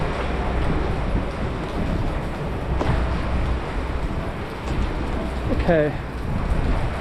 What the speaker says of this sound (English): Yeah, the rain is really coming down now.